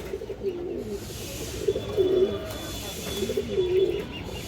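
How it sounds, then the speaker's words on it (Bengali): Domestic pigeons coo nearby in soft, low, repeated phrases at an unhurried rhythm over a constant background hiss, with no talk. "একটা চুইনা নর কবুতর আছে মাশাআল্লাহ"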